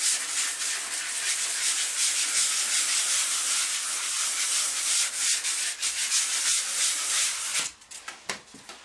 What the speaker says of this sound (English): sand it down with a circular motion